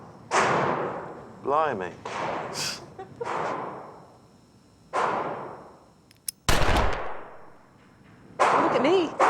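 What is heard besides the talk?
gunshot from a fired gun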